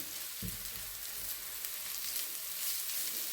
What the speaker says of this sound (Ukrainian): Смажимо далі.